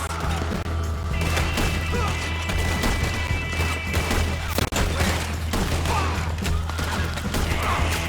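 A Red Dead Redemption 2 shootout against O'Driscoll gang members: dense, continuous volleys of rifle and pistol shots with crashing impacts, loud and close, and a voice shouting briefly amid the gunfire.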